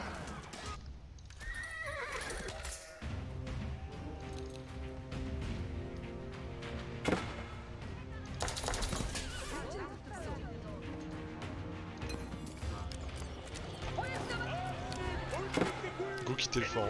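Horses neigh and whinny in an Age of Empires battle, mixed with hoof clip-clops, clashes and impacts, while players talk over the busy game sounds.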